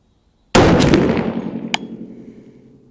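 A single sharp rifle shot from a 350 Legend loaded with 85 grain hollow points cracks loudly after a moment of quiet, ringing and decaying over the next couple of seconds, with a brief metallic clink partway through.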